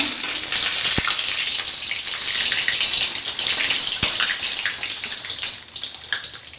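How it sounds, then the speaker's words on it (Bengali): Dried chilies and bay leaves sizzle in hot oil as a tempering for cabbage curry with pulao rice, a bright continuous hiss broken by a couple of sharp clicks. "প্রথমে আমরা ফোড়ন দিব।"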